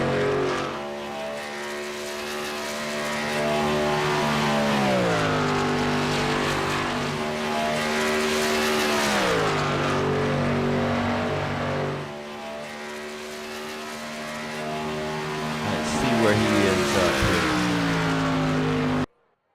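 A race car in the VSpeed Contender Series, heard from on board during its final lap, with a loud, sustained engine note that rises and falls in pitch as it accelerates and lifts through the corners, briefly easing midway.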